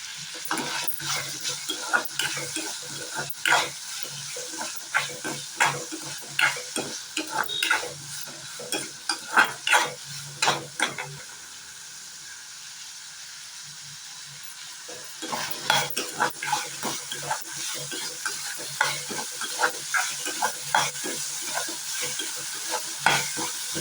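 Masala for a country chicken curry is sautéed in a pan, with repeated scraping strokes of a spoon over a low sizzle and a brief quieter pause midway.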